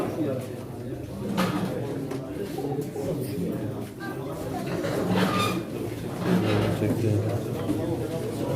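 Pigeons coo softly at a pigeon auction, low murmuring calls under busy chatter and talk from the crowd, with occasional clatter in the background.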